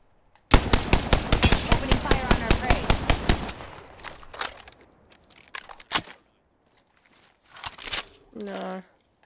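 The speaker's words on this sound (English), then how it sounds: "Opening fire on our prey." Gunfire in the video game Apex Legends starts as a rapid burst of about fifteen sharp automatic shots, followed by scattered single shots, clinks and a short spoken line.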